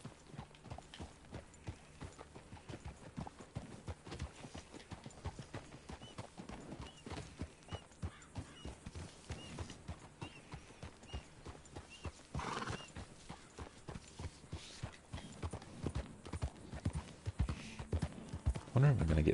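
Horse hooves clip-clop at a walking pace in the Red Dead Redemption video game, a steady rhythmic patter with a whinny, under intermittent character dialogue and rising louder toward the end.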